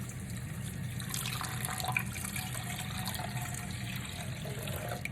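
Warm water, one and a half cups, poured into a mixer bowl over dry yeast, a steady close splashing stream running evenly throughout with no talk.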